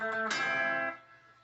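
Electric guitar rings out a riff, one sustained chord struck and left to decay, then fading quickly to near silence.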